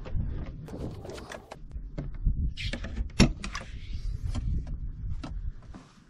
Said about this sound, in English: So we'll open up these doors.